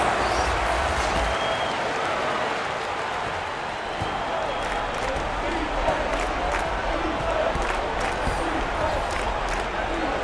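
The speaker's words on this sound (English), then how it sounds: "Fans, please give a big round of applause for your youth dance squad" A basketball arena crowd at a Philippines versus Brazil international game applauds and cheers the youth dance squad, a broad continuous roar of clapping and crowd noise with an announcer's voice faintly mixed in.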